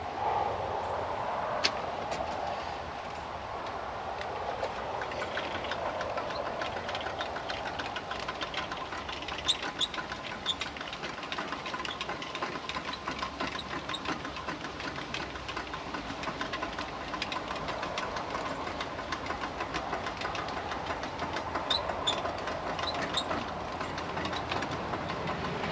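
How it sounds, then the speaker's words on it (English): Manually extended retractable awning on a DIY installation, its mechanism giving a long run of faint, irregular clicks and ratcheting over low background noise, with no talk. "So let me go ahead and extend it here."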